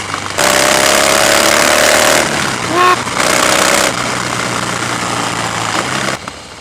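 A 2015 Harley Davidson Softail Breakout's engine roars loud and close, a deep rumbling burst that drops off briefly, then returns before easing away near the end.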